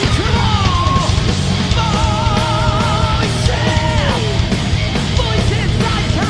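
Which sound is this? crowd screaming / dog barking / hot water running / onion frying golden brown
crowd screaming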